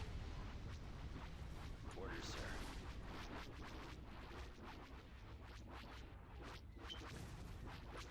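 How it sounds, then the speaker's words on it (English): Dense, continuous battle din from the Old Republic at War space game: a small fighter strafes a capital ship with rapid gunfire amid booming explosions and artillery-like blasts, loud and unbroken throughout. "Look at the little fighter strafing it."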